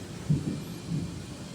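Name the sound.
thunder rumbling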